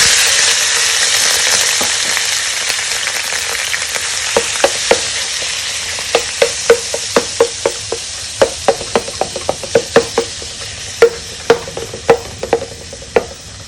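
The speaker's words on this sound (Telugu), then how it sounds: "సో దీన్ని ఇప్పుడు నేను ఆయిల్లోకి వేస్తున్నాను." Tofu lumps frying in hot oil for plant-based fried rice, a loud continuous sizzle that settles down while a spatula taps and scrapes the pan in a rapid, regular series of clicks.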